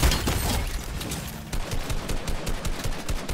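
Rapid automatic gunfire in Fortnite, dense bursts of shots stuttering close by, a brief pause, then another string of sharp rhythmic shots.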